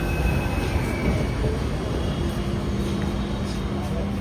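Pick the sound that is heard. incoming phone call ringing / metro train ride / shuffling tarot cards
metro train ride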